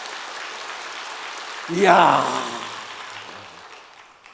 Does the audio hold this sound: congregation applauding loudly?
yes